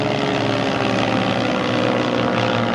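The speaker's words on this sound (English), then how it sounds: "It looks like it's a drone or a light aircraft." A steady, unbroken propeller drone of a light aircraft or drone flying overhead, loud and continuous with no voices.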